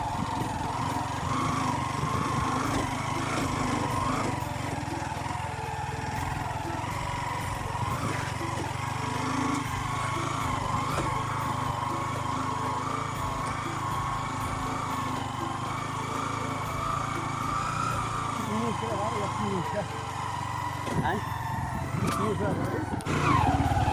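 Vehicle engine labouring steadily in first and second gear on a muddy, rocky village mountain road in the hills, a continuous near drone under speech throughout.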